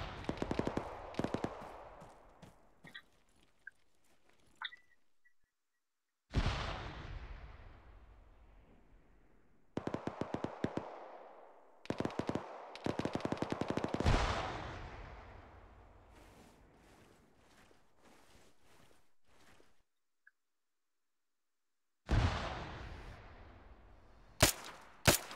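Gunfire in the Arma 3 military shooter, several loud bursts of rapid automatic fire separated by short silences and trailing echoes.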